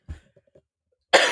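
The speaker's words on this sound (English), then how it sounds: "Still coughing over here" A short, dry cough, close and soft, followed a moment later by a louder burst of noise.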